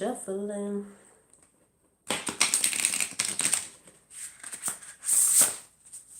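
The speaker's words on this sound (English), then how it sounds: "Let's have a good shuffle." Playing cards are shuffled by hand in a couple of quick, crisp riffling bursts after a brief spoken phrase, close and fairly loud.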